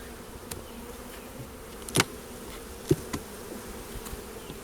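Honey bees buzzing around an opened hive during a first spring inspection, a steady close insect drone with a couple of sharp knocks from hive tools or frames.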